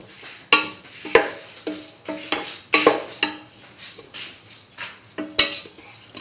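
Pumpkin, beef and rice being stirred together with salt in a pot, the utensil scraping and clinking against the sides in an irregular rhythm of close, fairly loud strokes with no talking.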